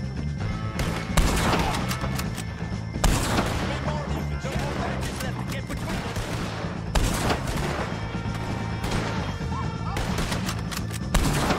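Red Dead Redemption 2 shootout against O'Driscoll gang members, dense continuous gunfire with rapid overlapping shots and loud cracks throughout, with voices shouting faintly in the mix.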